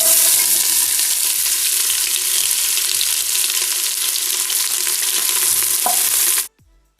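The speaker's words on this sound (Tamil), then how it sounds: "வெங்காயம் கட் பண்ணி வச்சுருக்கேன், இதில் போட்டுக்கோங்க." Chopped onion frying with spices in hot oil makes a loud, dense sizzle with quick repeated stirring scrapes, continuing steadily before stopping abruptly near the end.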